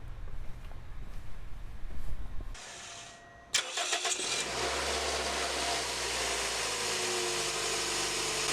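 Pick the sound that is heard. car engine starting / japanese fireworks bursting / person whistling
car engine starting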